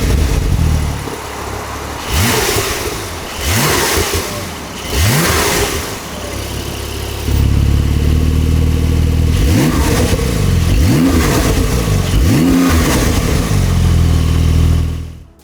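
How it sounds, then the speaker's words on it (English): Porsche 992 Turbo S fitted with an Akrapovič exhaust, revved in a stationary car: two sets of three sharp throttle blips rising and falling, separated by a steadier idle, loud and close with no talk. "So this is what the car sounds like now."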